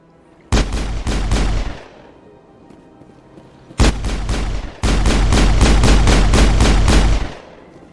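Loud, close automatic gunfire in Mass Effect on PS3, heard as a short burst, a pause, then a brief burst followed by a longer sustained rattle of rapid shots.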